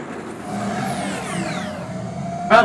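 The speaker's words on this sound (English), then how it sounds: "Oh, that's a car." Car speeding past in a Metal Gear Rising cutscene, a steady engine whir with a sweeping pitch, fairly loud and alone, ending in a short sharp burst.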